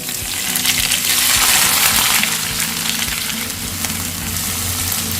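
Onions frying in hot coconut oil in a pan, a dense steady sizzle and crackle that stays loud throughout with faint stirring clatter and no talk.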